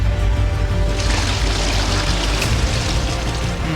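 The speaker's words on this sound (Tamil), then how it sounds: "நம்ம சாணி தயிராகிற மாதிரி தண்ணி ஊற்றிக்கலாம்" Water is poured into cow dung to thin it, a steady loud splashing pour that runs without pause, close to the microphone and with no talking.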